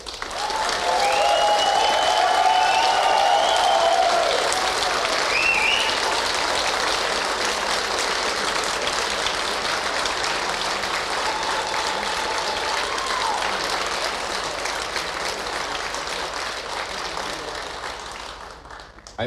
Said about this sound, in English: I want to see a big, big applause to everyone participating.